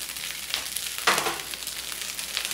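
Oil sizzles and crackles steadily as tuna fries, with a sharper burst of spattering partway through.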